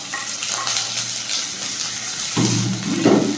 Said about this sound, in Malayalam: ഇനി ഇതിലേക്ക് അരിഞ്ഞു വെച്ചിരിക്കുന്ന സവാള ചേർത്ത് കൊടുക്കാം